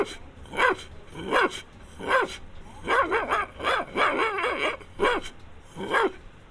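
A man imitates the bark of a Pathan-style guard dog with his voice, giving about eight sharp, loud bow-wow barks in an uneven rhythm, close to the mic with no other talk.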